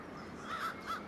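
Crows caw in a city, with two or three harsh, moderately loud calls in quick succession against a quiet background.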